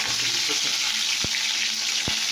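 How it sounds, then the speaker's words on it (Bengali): Bitter gourd frying in hot oil in a pan, heard as a continuous loud hiss of sizzling with two brief knocks, no voices. "করলাটা প্রথমে ভেজে নিচ্ছেন"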